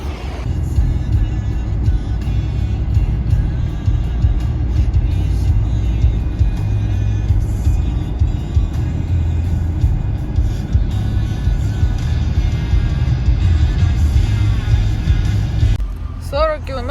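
Steady road rumble and tyre noise from inside a car on a highway toward Zakopane, a continuous even drone throughout with no talk.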